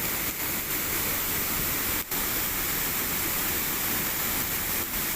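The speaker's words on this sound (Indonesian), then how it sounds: "Ini guys, air terjun Widuri, Kabupaten Grobogan." The Widuri waterfall in Grobogan Regency roars as a loud, continuous rush of water that fills the whole scene without a break.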